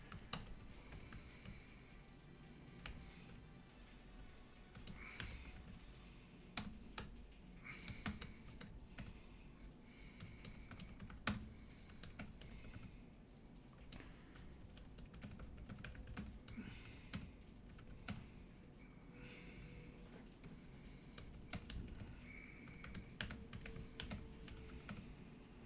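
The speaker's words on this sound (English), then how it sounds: "I'm just typing something, so I had to pause painting." Fingers type on a computer keyboard in long, uneven bursts of quiet clicking keystrokes, with occasional sharper key taps, close by in a quiet room.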